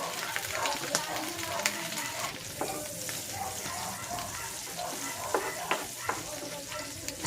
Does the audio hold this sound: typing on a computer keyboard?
no